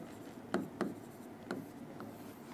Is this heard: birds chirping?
no